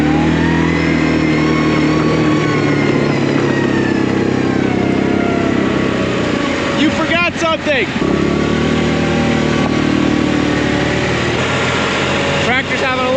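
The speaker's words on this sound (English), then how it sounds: "Tractor's having a little bit of problem getting some traction, but we're good." A tractor engine revs steadily and loudly while struggling for traction in slushy snow with rain on top, the motor droning throughout with brief surges; people talk over it.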